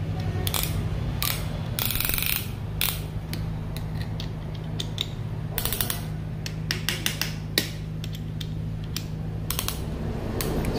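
Ratchet wrench tightening bolts during a 4D56T engine overhaul, a steady run of rapid clicking pawl strokes with brief pauses, close and loud, no talk.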